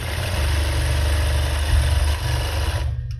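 An industrial straight-stitch sewing machine runs at steady high speed while winding a bobbin, a loud continuous motor whir up close that cuts out abruptly near the end.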